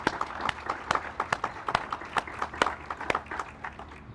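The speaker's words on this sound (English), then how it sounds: "I want to ask for another round of applause for those individuals" Applause from a crowd at a ribbon cutting ceremony for a center for military-connected students, heard as sparse, uneven claps that ring out individually rather than merging into a dense roar, moderately faint throughout.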